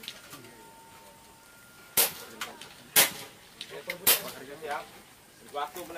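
Air rifle shots at an extreme benchrest duel competition over 41 m ring out as sharp, isolated cracks, a few seconds apart, amid background talk and crowd murmur.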